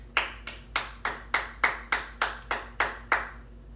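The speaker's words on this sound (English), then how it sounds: "Should we have a random applause for that, bro?" A small group claps hands in an even, regular rhythm at home on Christmas Day. About a dozen sharp, crisp claps come close and clear with nothing else behind them.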